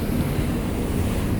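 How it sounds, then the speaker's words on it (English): Waves churned up by jet ski wakes off Key West, seen from a cruise ship: a steady, loud wash of surf and rushing water with wind buffeting the microphone, no voices. "Look at those jet ski waves."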